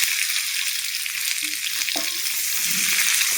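Cut hog plums hit hot oil with five-spice and fry with a bright, steady hiss, a few soft stirring knocks showing through close by.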